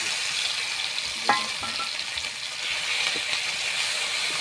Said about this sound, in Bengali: পেঁয়াজ রসুন কাঁচা লঙ্কা সর্ষে কালো জিরা দিয়ে দিচ্ছি